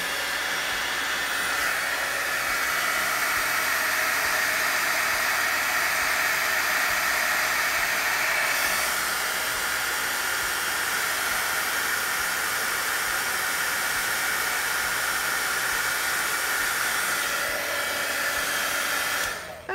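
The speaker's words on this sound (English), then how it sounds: "let me just put my heat gun on that and see what it looks like when it's dry" A heat gun blows steadily on an art journal page, making a loud continuous whooshing hiss that holds for the whole stretch and cuts off at the end.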